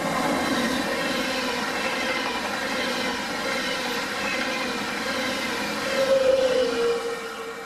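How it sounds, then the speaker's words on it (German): An ÖBB Railjet passenger train bound for Vienna, pushed by a Taurus 1116 locomotive, rolls past on a winter line with a sustained rumbling roar and droning electric whine that swells slightly near the end. "ÖBB Taurus 1116 220 schiebt den ganzen Zug nach Wien."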